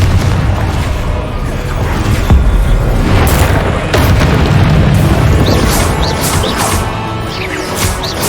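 Hogwarts Legacy spell combat with a Confringo blasting spell: loud booming explosions and crashing impacts burst in dense succession over a rumbling game soundscape.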